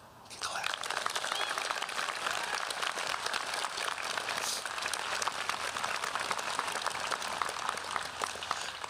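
A large audience applauds at a 2023 high school commencement, a dense, steady wash of clapping that fills the whole stretch without a break.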